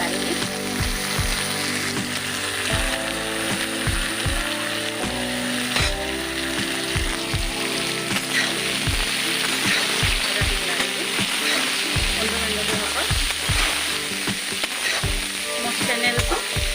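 Colocasia stems (kosur loti) and other ingredients sizzle steadily in a pan for Assamese home cooking, with a spoon repeatedly scraping and knocking against the pan in an uneven rhythm as they are stirred. Occasional speech may be faintly present.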